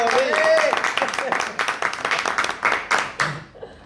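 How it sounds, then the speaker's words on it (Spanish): A small group claps in a quick, uneven burst, close by and loud, with voices heard over the opening before the clapping trails off. "Que ese aplauso va para ti,"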